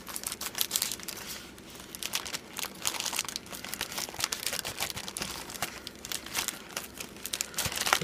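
Crinkling and crunching plastic packaging rustles steadily close by as a dented parcel holding a Sony Xperia Z3 Mini Compact replacement LCD screen and touch digitizer is opened, with occasional sharper tearing bursts and no talk.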